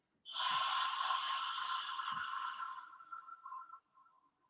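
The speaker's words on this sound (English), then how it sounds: "I'm going to open mouth, exhale, and I'm going to exhale for 10 counts." A long open-mouth exhale during a Pilates breathing exercise, a loud breathy rush that starts abruptly, holds steady for about three seconds and then tapers off into quieter breath, heard alone and close.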